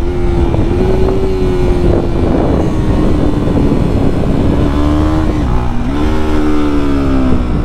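A motorcycle ridden fast on an open road gives a loud steady engine drone with slight pitch shifts and heavy wind rush. No one talks over it.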